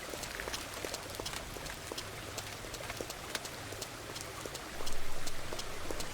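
Rain falls steadily in the farming video game Farmer's Dynasty, a dense even patter of drops on surfaces, with a brief louder swell near the end.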